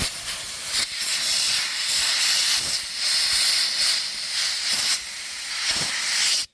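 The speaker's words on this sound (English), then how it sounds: "So we push this valve up, air is going to come out." Air rushes out of a tire through a Lasfit four-tire inflator/deflator valve, a loud continuous close hiss with brief dips that stops abruptly at the end.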